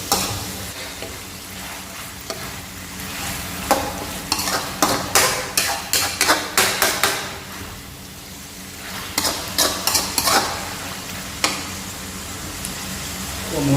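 Pork being stir-fried in a pan, a constant sizzle broken by bursts of rapid scraping and clattering from a spatula tossing the meat, close and loud, with no talking.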